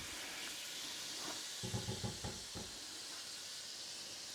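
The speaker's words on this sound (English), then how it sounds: "So now the deglazing with a little bit of cognac" Cognac hitting a hot pan while deglazing after chicken livers, giving a steady close hiss with a brief burst of crackling sputters in the middle before settling back to a sizzle.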